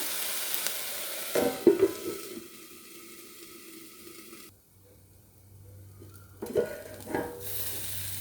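Food steams and cooks under a lid in a pan: a soft, steady sizzle with a few clattering bumps of the lid or utensil. No one speaks.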